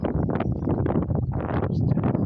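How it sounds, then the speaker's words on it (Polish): Wind blows outdoors beside a chicken run under construction on a fine day, buffeting the microphone with a constant, loud, low rumble that fluctuates throughout the short stretch, with no voices. "Mam nadzieję, że ten wiatr tutaj za bardzo nie świszczy i będzie cokolwiek słychać."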